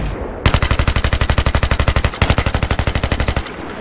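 Rapid, loud machine gun fire from Battlefield 3, two sustained bursts with an even, fast rhythm of sharp shots, separated by a brief pause, close and alone without voices.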